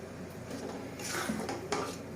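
A spoon clinks and scrapes against a pot while stirring a lentil and fish-egg curry, a few quiet metallic knocks close by with no voices.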